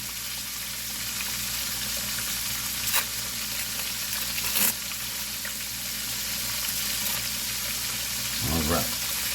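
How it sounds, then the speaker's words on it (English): Eggs fry in a pan for a cheese omelet, giving a steady, close sizzle that runs throughout, with a few brief clinks and stirring sounds near the end. "Throw in the ingredients you want for your eggs. I'm doing a cheese omelet for Jay."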